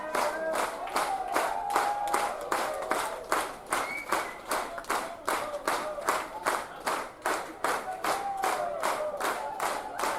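Loud, sustained rhythmic clapping from a concert crowd, with many hands beating in unison at a brisk, even pace for several seconds and a few voices cheering faintly underneath.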